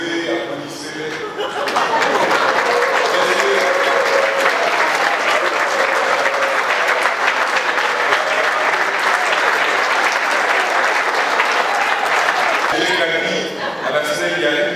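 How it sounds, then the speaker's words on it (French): An audience at a New Year wishes gathering in a hotel applauds for the women who were called to stand. The clapping swells quickly into a loud, dense ovation that holds steady for about eleven seconds, then tapers off as voices and light laughter come through. "Levez, applaudissez-les."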